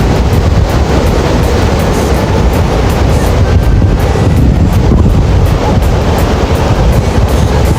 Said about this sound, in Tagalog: Malakas talaga yung hangin guys.